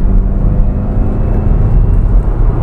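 Maruti Suzuki Baleno engine pulling hard under acceleration in second gear near 3500 rpm, a loud, steady low-pitched drone with a rising hum, heard from inside the car with no talking.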